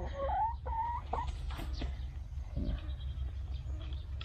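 Laying hens in a backyard coop give a few soft, rising clucks and calls at close range, followed by quieter scattered rustling and faint clucking.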